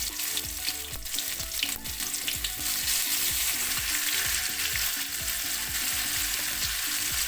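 Steady, loud sizzling of shallots frying in hot coconut oil with mustard seeds, a continuous crackling hiss with occasional stirring scrapes, no voices.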